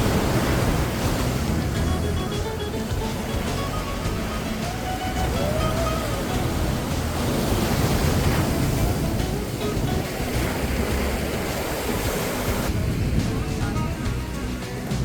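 Ocean waves at a beach in Cancun, Mexico, a loud continuous wash of surf with wind buffeting the microphone throughout.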